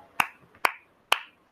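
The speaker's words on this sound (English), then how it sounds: "And you can hear I am applauding as a teacher." A teacher clapping hands in applause; three sharp, crisp claps spaced about half a second apart, close and distinct against a quiet background.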